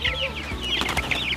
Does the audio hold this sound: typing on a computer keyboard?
no